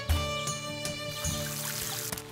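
Water pouring from a watering can onto a field in the Story of Seasons: Pioneers of Olive Town video game, a brief splashing pour layered over steady game music with no talk.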